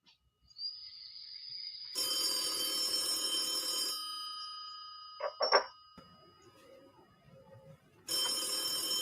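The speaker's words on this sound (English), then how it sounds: "Phone's ringing." A telephone bell rings in two long bursts separated by a gap with a few brief knocks, with a faint tone beforehand, clear and fairly close with no talking.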